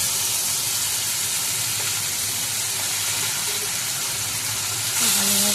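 Ground spice paste dropped into hot mustard oil with five-spice seeds left from frying fish, a dense steady sizzle and hiss throughout, close and loud, with a brief surge near the end.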